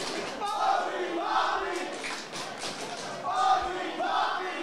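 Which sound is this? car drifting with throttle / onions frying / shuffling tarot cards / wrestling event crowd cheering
wrestling event crowd cheering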